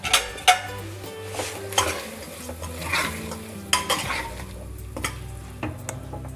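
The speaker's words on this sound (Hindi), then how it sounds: "एक बार इसे हम चावल को भी चला लेंगे।" Metal spoon scraping and clinking against a pressure cooker while stirring rice, several distinct knocks over a faint background hum.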